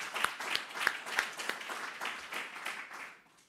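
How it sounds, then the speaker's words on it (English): Audience applause for charity partners at a charity golf tournament announcement. A few close, sharp individual claps stand out over a lighter crowd clapping that tapers off at the end. "And let's give all our charity partners a big round of applause."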